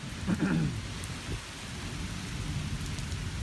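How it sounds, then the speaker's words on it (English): A thunderstorm outside a workshop brings steady, hissing rainfall throughout, with a low roll of thunder early on and scattered louder drops. "But it's storming here right now"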